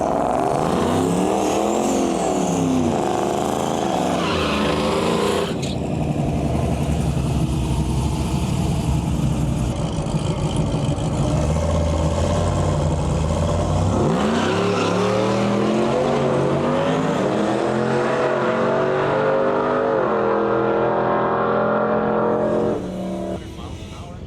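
BMW race car accelerating down a drag strip, engine notes climbing in rising sweeps and gear-change breaks, loud and close, with other cars and a voice in the background.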